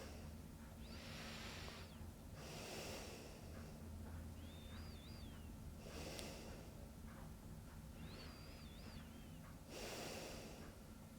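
Slow, deep breaths in and out during a gentle yoga stretch, heard as a few soft, evenly spaced airy inhales and exhales close to the microphone over faint background noise, with no talking.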